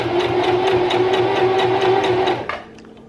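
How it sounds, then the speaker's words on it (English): A new sewing machine stitches fabric in a fast, even mechanical whir with a regular ticking pulse, loud and close, running for about two seconds before stopping. "So we're in and we're gonna sew."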